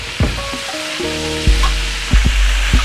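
Chicken frying in a pan, extra crispy after being flipped, with a steady sizzle punctuated by several sharp pops and crackles, close and fairly loud, with no talk.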